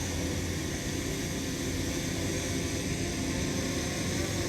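A small consumer drone hovering and flying overhead outdoors, giving a steady, even whir with a broad hiss that holds constant throughout, fairly faint and alone.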